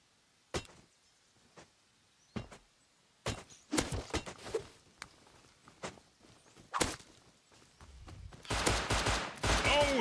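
Gunfire in the factory-building game Satisfactory comes as scattered sharp single shots at first, then denser bursts and a sustained rattling volley near the end, over near silence.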